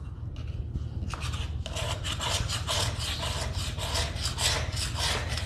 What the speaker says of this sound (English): Just want to scrape along the side, just take it all off.